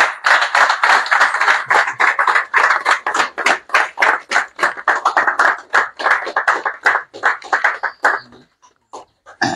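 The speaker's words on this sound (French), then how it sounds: "sous vos applaudissements, s'il vous plaît" A dense burst of hand clapping from an audience at a Gabonese political gathering held in a darkened hall, steady and close for about eight seconds before thinning to a few scattered claps and silence.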